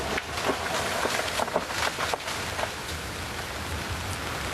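Heavy rain recorded on a mobile phone during a morning storm in Paraná, a dense, steady, loud wash of rainfall with scattered sharper drops hitting surfaces, continuous throughout without talking.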